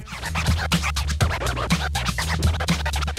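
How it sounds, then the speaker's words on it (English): Rhythmic record scratching, with quick back-and-forth strokes repeating over a steady low beat, loud and close. "that noise you may know from records called scratching"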